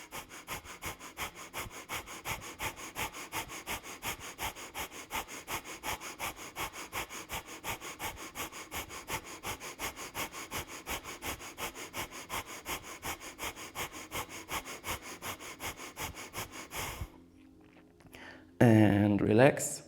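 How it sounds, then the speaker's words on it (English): Breath of Fire, the rapid Kundalini yoga breathing, as fast, steady, evenly pulsed nasal huffs repeating for many seconds up close, then it stops and a short louder sound follows. "from here again, begin breath of fire."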